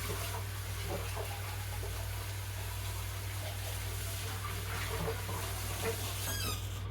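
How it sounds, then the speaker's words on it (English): Water runs steadily from a tap while a container is rinsed out in a home kitchen, a soft continuous wash with faint clatter near the end. "I'm gonna rinse this out"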